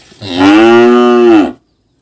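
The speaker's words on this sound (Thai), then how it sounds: "ตอนนี้แม่วัวกำลังจะคลอด" A cow in labour, about to give birth, lets out one loud, sustained moo of about a second and a quarter, close by and alone, ending abruptly into silence.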